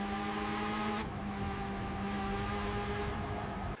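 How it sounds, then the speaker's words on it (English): Electric Ferrari accelerating hard in performance launch mode, a steady rising electric motor whine with layered tonal hums and road rumble, sustained and fairly loud, with a brief shift in tone near the start. "Acceleration is relentless, but always controlled."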